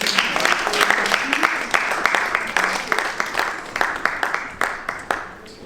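Audience applause at the GIFA d'Or 2025 ceremony in the French Senate, a steady patter of many hands clapping at moderate distance, with a few sharper claps standing out as it gradually thins toward the end.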